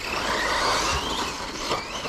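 A Kyosho Inferno Neo 1/8 brushless off-road RC buggy accelerates hard with its tyres spinning, giving a loud, continuous, broadband whirring rush that stays steady for about two seconds.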